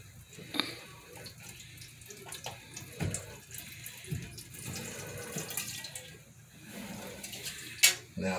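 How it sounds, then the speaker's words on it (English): Water trickling and splashing as it drains out of a clogged bathroom sink pipe, a steady gurgling flow with occasional drips and small knocks, fairly quiet and close. "the water is going to start coming out"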